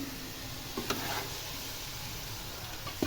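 Ghee tempering sizzles in a pan for a bottle gourd dish, a steady hissing crackle with a couple of sharper pops near the start and end, fairly close.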